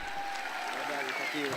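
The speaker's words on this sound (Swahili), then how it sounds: "Wapi makofi." An audience claps at a lively comedy gathering, a dense, even patter of many hands heard at moderate distance for a short stretch, with some voices mixed in.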